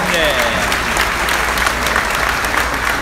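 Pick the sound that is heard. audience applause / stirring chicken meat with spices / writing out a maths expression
audience applause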